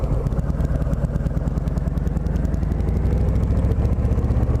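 A 2018 Harley-Davidson Softail Low Rider motorcycle engine runs steadily while riding, a loud, continuous low throb with dense rhythmic firing pulses and no talk.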